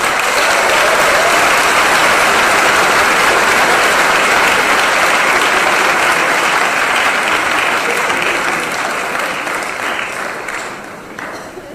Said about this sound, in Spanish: Fuerte el aplauso para Pablo Iglesias.